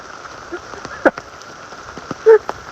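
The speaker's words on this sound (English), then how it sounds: "It's still raining out here." Steady rain patters on a hammock camp in severe weather, a dense hiss with scattered sharper drop hits and a couple of louder thumps, close by.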